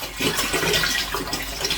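Vinegar being poured into a container for preserving vegetables makes a steady, close splashing and gurgling liquid stream, fairly loud and without speech.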